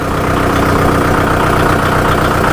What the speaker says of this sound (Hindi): ट्रैक्टर स्टार्ट किया, सबसे पहले कमांड लो और ये गियर लगाएंगे।